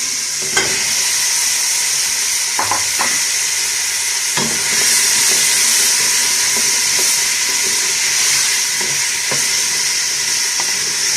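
Turnips sizzle and hiss steadily in a hot pan, with occasional sharp crackles and pops; no one speaks.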